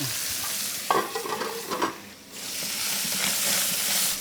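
Clams sizzle and crackle in a hot pan over high heat, with a broad steady hiss, a few sharp spits and stirring clatters midway, then the sizzling swells again.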